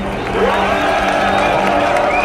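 A loud crowd cheering and shouting together in a continuous roar of overlapping voices, close and sustained for a couple of seconds.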